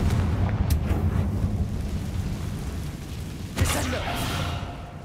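A Confringo blasting spell explosion in Hogwarts Legacy: an ongoing rumbling roar with a sharp burst partway through, its low boom echoing afterward, with a brief voice nearby.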